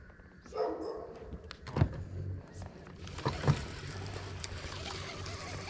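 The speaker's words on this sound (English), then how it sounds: "We got dogs barking" Dogs barking near a dock on the water during a fishing outing, with a couple of sharp barks standing out over an outdoor background.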